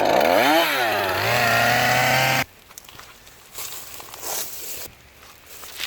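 A chainsaw cuts into a wet tree stump to shorten it, a loud rising and falling whine for a couple of seconds before cutting off, followed by quiet rustling and footsteps.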